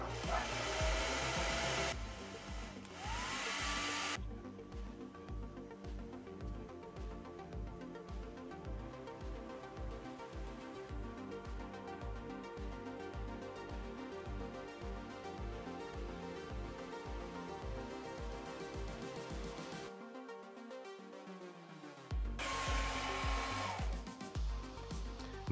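Hair dryer running on second speed with first heat setting, powered by a Bluetti EB70 portable power station: a loud, continuous whirring blow that holds steady for most of the stretch, briefly cutting out and then resuming near the end.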